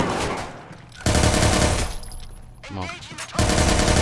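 Bursts of automatic gunfire in the game Watch Dogs 2, dense loud rattling volleys separated by short pauses, with someone speaking briefly in a gap between bursts.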